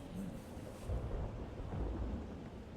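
A thunderstorm in the Loki series gives low rolling thunder rumbles under a steady wash of rain, moderately loud, with no voices.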